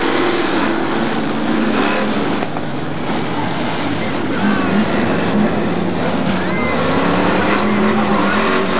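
Hot stock race cars roar in a dense, loud wash of engine noise, with brief tire squeals and skids as a car crashes on a 1990 oval track.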